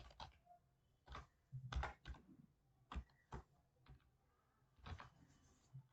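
Computer keyboard typing in short irregular bursts of sharp keystroke clicks with brief pauses between, fairly quiet and close, with no talking.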